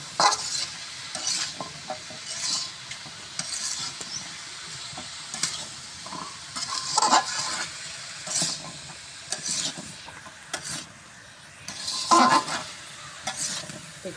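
Data stems and pumpkin frying with spices in a pan, stirred in repeated scraping strokes over a constant close sizzle, with occasional clinks of utensil against the pan and no voices.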